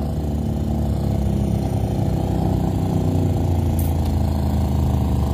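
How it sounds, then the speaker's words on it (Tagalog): A rented motorcycle runs in the desert with a steady, loud rumbling engine note held close, unchanging and with no talk over it. "I-rent natin yung motor na ito"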